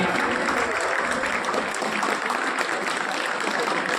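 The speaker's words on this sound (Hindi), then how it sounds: "उनका भी तालियों से स्वागत एवं अभिनंदन करें।" A crowd at a school skills award ceremony in Sujangarh claps to welcome a guest principal onto the stage, a sustained wash of applause with some voices mixed in.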